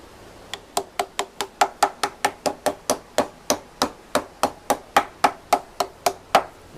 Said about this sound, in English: let's tap that down. Actually, let's get a little hammer.